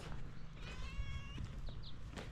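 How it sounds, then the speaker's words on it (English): A house cat in a countryside village home meows once at close range, a short tonal cry over steady background hiss. "And this is our cat."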